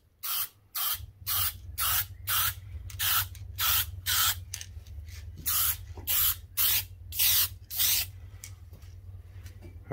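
Sprayed from an aerosol can in a workshop, paint comes out in about a dozen short, loud hissing bursts in a regular rhythm. A low steady hum runs underneath.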